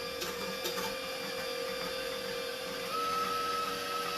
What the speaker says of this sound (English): we're just going to turn our mixer on to medium.